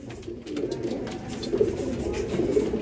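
Breeder pigeon pairs cooing steadily at close range, a soft continuous murmur of low coos with a few louder swells, over a busy background.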